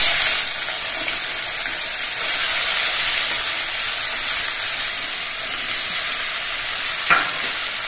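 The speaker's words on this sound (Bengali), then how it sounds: "এবার সবজিগুলো দিয়ে কিছুক্ষণ ভেজে নিতে হবে।" Vegetables fry in hot oil with nigella seeds and green chili, a loud, even sizzle and hiss that runs throughout, with one short clink near the end.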